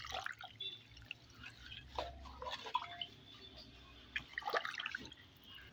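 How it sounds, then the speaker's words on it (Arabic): Oil and water poured into a jar of pickled Kalamata olives, making a faint, uneven trickle with scattered drips and splashes and no talking. "شويه زيت اهو زي ما انتم شايفين كده اهي، واكمل الميه بتاعتها"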